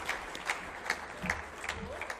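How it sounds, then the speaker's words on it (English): Audience applause for a man who has just finished speaking on stage at a forum event; sparse, separable claps recur in a loose rhythm, moderately quiet and somewhat distant, with no talk over them. "round of applause for this man who's spoken beautifully and given us some amazing answers"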